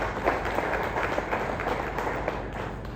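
Applause for the head of school and his team fills a school farewell assembly: a dense, steady patter of many hands clapping, even in level throughout.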